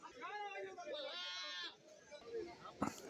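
Several goats, including billy goats, bleat in wavering, drawn-out calls at a goat market in Kerala, one long cry swelling in the middle, with a sharp knock near the end and farmyard background.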